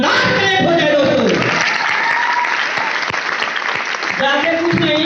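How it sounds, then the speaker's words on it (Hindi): Loud, sustained applause from a large crowd at a training event for gurus in Nainital, dense clapping filling the whole clip with a voice briefly audible at the start and end. "सभी महागुरुओं के लिए एक बार इससे शानदार और जानदार तालियां हो जाए दोस्तों"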